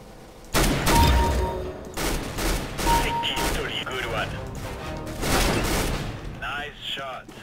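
Rapid bursts of rifle fire in Counter-Strike, several loud volleys in a row with short pauses between them and players talking over the shooting.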